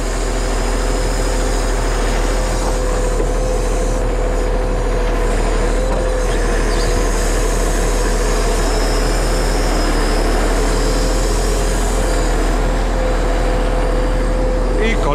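A timber truck's crane loads logs in a forest, giving a steady low engine and hydraulic drone with a faint whine that runs the whole time while someone talks over it.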